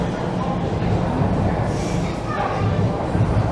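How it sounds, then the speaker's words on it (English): A quiet Toronto subway station, where a train rumbles steadily with a low rolling drone and faint metallic squeals, close and continuous throughout. "This is one of the least busy subway stations in the city."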